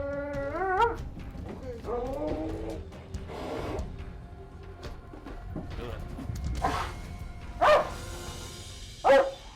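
A police dog inside a building gives scattered barks and whimpers under mixed voices and shuffling, with two sharper barks near the end.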